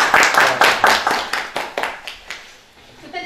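A crowd at a community book donation event in Ungureni, Romania, claps in a rhythmic burst of applause, loud and close, tapering off toward the end.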